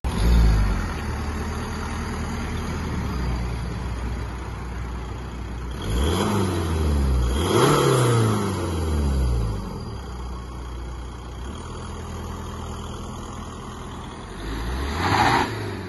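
A remapped Audi A3 1.9 TDI diesel accelerates hard, its engine note climbing and dropping back several times as gears change, with steady road and wind roar throughout and no talk.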